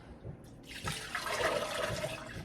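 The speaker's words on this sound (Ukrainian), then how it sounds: "Наливаємо просто сюди водички." Water pours into a vase, starting with a few soft handling knocks and then becoming a steady splashing trickle that fills the container, close and moderately quiet, with no talking.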